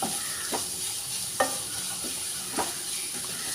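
Onions, ginger and garlic frying in oil for a Kerala toddy-shop beef fry, a steady sizzle with a few soft scraping stirs spaced through it, close and moderately quiet, no talking.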